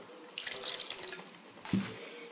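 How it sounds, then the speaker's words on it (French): A little water is poured into an egg and flour batter, a faint splashing trickle followed by a brief heavier splash and drip, quiet and close with no speech. "On va ajouter un petit peu d'eau"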